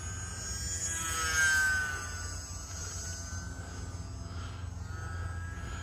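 An E-flite UMX Turbo Timber RC plane flying a roll at about half throttle, its small electric motor buzzing steadily at a distance and swelling briefly louder partway through before settling back, with no talk.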